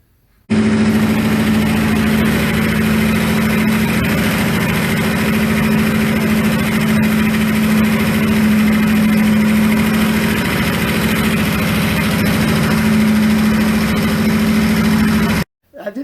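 A 1964 Ford Galaxie 500 engine runs after cam break-in, a steady, loud idle with a constant low hum and vibration that holds evenly for about fifteen seconds before cutting off abruptly.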